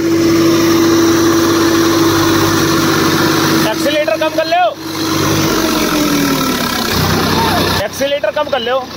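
Tractor engine runs loud and steady while pulling a loaded trolley, a continuous mid-pitched drone with a shifting whine, as people shout and talk over it nearby.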